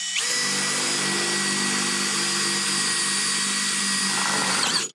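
A power drill bores a hole in a commercial storefront entrance door, a loud steady high whine running almost five seconds before stopping abruptly, with no talking.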